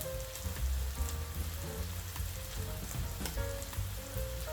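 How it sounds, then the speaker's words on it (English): Tomato paste sizzles in a pot as it cooks down, a steady close crackle and hiss running throughout beneath background music. "Tomato paste goes in, and I let it cook into the pot."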